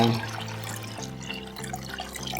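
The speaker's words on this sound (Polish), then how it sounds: "tutaj ta gąbka jeszcze wyleję tę wodę" Water from an aquarium prefilter sponge being poured out, a steady close trickle and splash running the whole way through beneath a voice.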